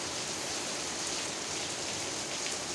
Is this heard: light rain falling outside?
yes